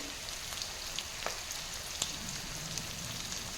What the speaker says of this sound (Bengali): এগুলো হালকা ভেজে নেওয়ার পর আমি দিয়ে দিচ্ছি কুচিয়ে রাখা পাতাকপি।